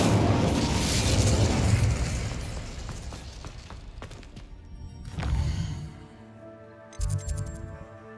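An Incendio fire spell in Hogwarts Legacy erupts as a loud, roaring burst that slowly fades, followed by a second fiery swell and a shorter, sharp blast near the end, with no voices.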